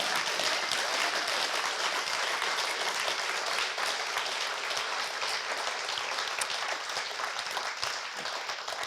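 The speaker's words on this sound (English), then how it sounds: "can I have a huge round of applause for these guys?" Sustained audience applause at a live storytelling show, a dense, steady wash of many hands clapping without pause for around nine seconds, loud and unbroken with no voices on top.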